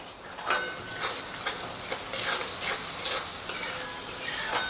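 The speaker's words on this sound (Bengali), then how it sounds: "এখন ওটা 2-5 মিনিটের মতো আমি ভালো করে এটাকে কষিয়ে নিচ্ছি মশলাটাকে" Spice masala for chole, with garam masala, is sautéed in oil in a pan. A spoon scrapes in repeated rhythmic strokes about every half second, close and clear over a soft sizzle.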